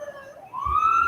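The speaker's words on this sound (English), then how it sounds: "You hear the background noise right now, probably some sirens going on." Emergency vehicle sirens wail in the distance outside a quiet gathering, a faint tone sliding upward and holding, alone with no voices over it.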